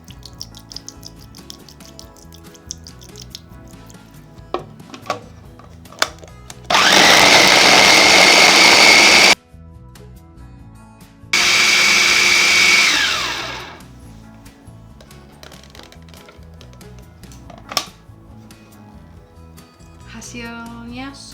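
Two loud bursts of a motorized food chopper whirring as it grinds chicken meat with oil and ice water, the second winding down, between quieter kitchen clatter and background music.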